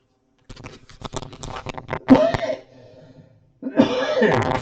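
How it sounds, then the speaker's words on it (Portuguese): A few harsh coughs and a throat clearing, close and fairly loud, with short pauses between bursts. "Desculpe pela tosse."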